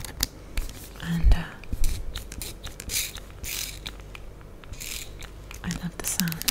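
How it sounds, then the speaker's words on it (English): A cheap plastic IKEA spray bottle is pumped and sprays repeatedly in a steady run of short hissing bursts with the clicks of the trigger mechanism, close up and fairly clear. "I love the sound of the spray bottle."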